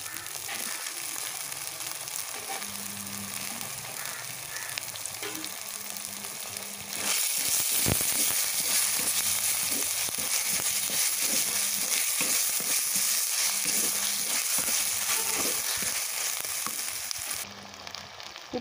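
Chopped tomatoes sautéing with ginger-garlic paste in a pan for village-style duck curry, a steady close sizzle and fry that grows louder partway through, with faint low clatter of stirring underneath.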